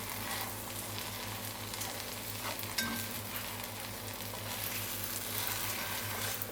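An omelette filling sizzles and fries steadily in a pan over lowered heat, a continuous close crackle with a brief clatter near the middle.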